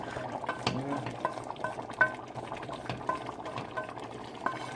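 Gumbo bubbling in a pot on a stovetop, a steady low simmering burble with soft pops and an occasional stir or clink, mid-distance and moderately quiet, with no talk over it.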